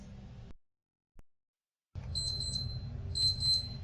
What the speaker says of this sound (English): my timer went off